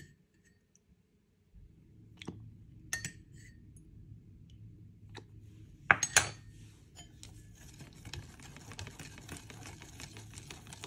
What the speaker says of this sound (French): mélangez rapidement à l'aide d'un fouet manuel